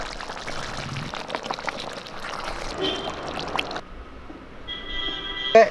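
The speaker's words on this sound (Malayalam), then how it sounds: "നെയ്ച്ചോറിന് വേണ്ടി നെയ്യ് ഒഴിച്ചു കൊടുക്കാം" Ghee pours into a pot of coconut milk rice for ghee rice, a soft, close trickling hiss that runs for a few seconds and then stops, leaving a quieter stretch.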